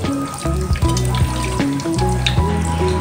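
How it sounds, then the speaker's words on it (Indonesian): Shallots sizzle steadily while frying in a pan of hot oil, a close and continuous crackle with brief stirring scrapes and no voices. "Oke, ini bawang gorengnya sudah matang."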